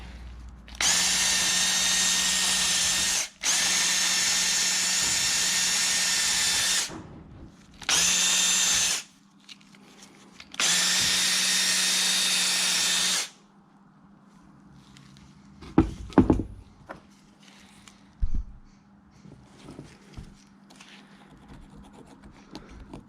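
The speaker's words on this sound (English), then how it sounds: "then just finish up with the wire wheel on the drill" A power drill with a wire wheel whirs in four long bursts, harsh and scratchy, cleaning aluminium Morris J2 brake parts, then stops, followed by quieter clinks and handling noises.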